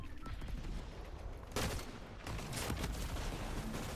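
Gunfire in the video game Fortnite during an FNCS competitive match, with repeated sharp bursts of shots, including a louder cluster midway, over a busy game background.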